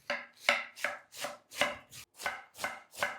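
A knife chops cabbage on a board for a cabbage pie in about nine steady, evenly spaced strokes, each a crisp near thud with a sharp leafy crunch, with no voices.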